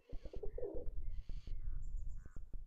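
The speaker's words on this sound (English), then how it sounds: "There's birds." Pigeons coo in the video game Alphabet Baby, soft repeated warbling calls mixed with scattered chirps and clicking game sounds, moderately close and without talk.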